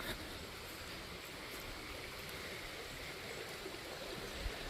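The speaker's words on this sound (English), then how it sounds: "I like the chairs here you can sit back on and relax right on the bank of the creek here." Creek water flowing steadily past cabins along the bank in Linn Run State Park, Pennsylvania, a faint, even rushing hiss of the stream with no voices.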